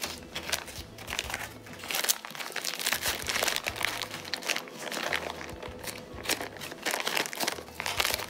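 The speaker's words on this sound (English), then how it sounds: "Folding it up, getting all that excess air out, and then sealing it shut." Plastic Ziploc bag being folded and sealed, with close, continuous crinkling and crumpling in irregular bursts as the plastic is pressed flat and zipped shut.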